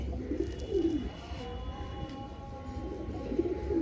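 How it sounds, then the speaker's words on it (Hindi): A Chapdar pigeon pair coos softly and fairly close, giving repeated low rolling calls in two bursts with a quiet pause between and no talking. "बहुत सच्चे नज़र के कबूतर हैं ये।"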